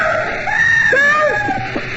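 A woman's scream in a radio mystery drama, loud and close, a long wavering cry that rises, breaks and trails off into sobbing gasps over about two seconds.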